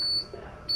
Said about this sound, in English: It's an alarm, it'll go off.